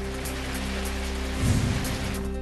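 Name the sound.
heavy rain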